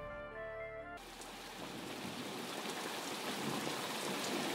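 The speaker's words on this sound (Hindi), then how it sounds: "इतनी बारिश हो रही है, ये आएंगे भी या नहीं?" Heavy rain pours down in a dense, continuous hiss that swells slightly over time, preceded by a brief moment of music, with no voices.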